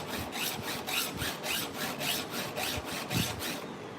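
A file sharpening chainsaw teeth, a steady run of rhythmic rasping strokes, about two per second, close and fairly loud with no talking over it.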